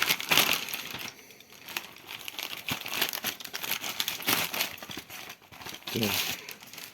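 Paper and plastic crinkle and rustle up close as a Nova Poshta parcel envelope is torn open and handled, in bursts with short pauses.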